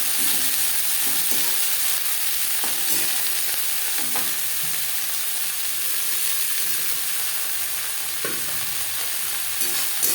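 Chopped Brahmi greens frying with eggplant in a pan on medium flame, a loud continuous sizzle with scraping stirs recurring through the span, no voices.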